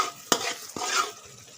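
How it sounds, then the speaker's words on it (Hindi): Melon seeds (magaz) being stirred in a pan, two sharp spoon scrapes and clinks over a soft dry rustle and light sizzle, close and alone. "मगज़ को ऐसे मिक्स करें,"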